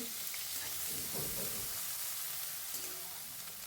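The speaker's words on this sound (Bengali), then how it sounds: "এবার কড়াইতে আরও একটু সাদা তেল দিয়ে দিলাম এবার প্রথমে পেঁয়াজটা ভেজে নেব" Onion fries in white oil in a wok, giving a dense, continuous sizzle with soft stirring scrapes, close and fairly quiet, with no voices.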